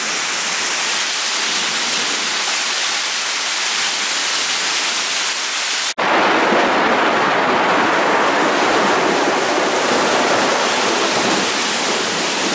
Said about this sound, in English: See the runoff from these surrounding areas flooding into the bayou down there.